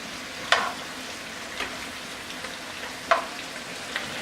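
Eggplant and other vegetables stir-frying for shrimp pinakbet give a soft, constant sizzle, with a couple of sharper scrapes and clatters as they are tossed in the pan. It is close and quiet, with no speech.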